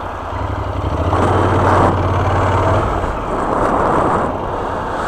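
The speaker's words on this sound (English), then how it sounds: "It's certainly a different engine sound to what I'm used to. But obviously this is a parallel twin rather than a V4." A 2016 Honda NC750X parallel twin motorcycle engine runs close and loud with a low, throbbing drone that rises briefly as it revs, then settles back under wind rush.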